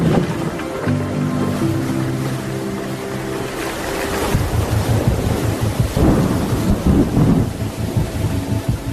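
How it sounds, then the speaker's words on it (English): A thunderstorm squall at sea in Fiji's Lau Group, heard from a boat: deep rolling thunder rumbles, then heavy rain and wind pounding loudly with sloshing water, growing rougher toward the end. "just hopefully none of these little storms turn into a big storm"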